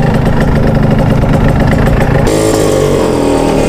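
A motorcycle with an aftermarket full-stroke exhaust pipe idles loud and close, with a steady throbbing rumble that deepens slightly partway through. No one speaks.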